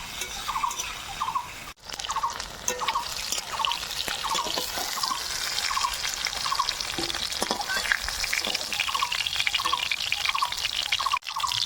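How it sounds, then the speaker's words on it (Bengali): Pieces of pointed gourd fry in hot oil in a kadai, the same oil used earlier for potatoes, giving a steady, close crackling sizzle with occasional stirring clatter and no voices. "আর এই একই তেলে পটলগুলো ভেজে নেব।"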